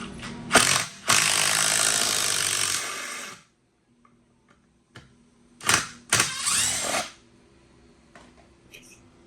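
Ryobi 18V ONE+ HP brushless impact driver in mode 3 backing out a screw, loud rattling bursts of hammering separated by pauses, close to the listener.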